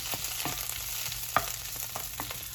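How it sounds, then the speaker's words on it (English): Brussels sprouts sauté in an oiled pan, giving a faint, steady sizzle with a few soft stirring clicks and one brief louder clink, with no talking. "coat the pan, and then I just put the Brussels sprouts in there"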